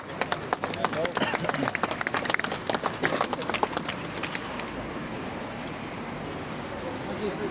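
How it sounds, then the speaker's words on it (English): Stadium tour group at Anfield applauding, sharp clustered handclaps fading out after a few seconds, leaving a quieter murmur of the room. "So round of applause."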